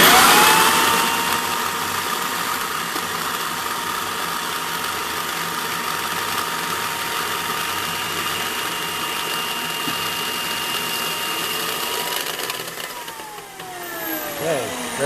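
A homebrew grain mill with a stationary and a rotating roller cracks malted grain, giving a steady loud mechanical grinding drone that runs continuously before fading and changing near the end.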